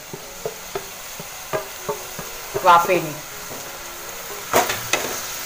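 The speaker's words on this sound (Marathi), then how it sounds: "आता हे व्यवस्थित जरा मिक्स करून घेते" Mushrooms sizzling in a pan as they are stirred, with repeated scraping and clinking strokes and a brief spoken word.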